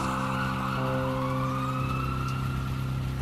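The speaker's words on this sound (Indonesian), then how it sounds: "Suara sirine ambulans terdengar sangat jelas di telingaku" Ambulance siren on a quiet night street wailing steadily with a slowly gliding pitch, clear and prominent over a low traffic rumble, with no talking.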